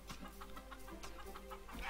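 A chicken clucks in the video game Kurka Wodna 2: Zemsta Pana Franka, a quick run of short, rhythmic clucks repeating close and clear with no voices over them.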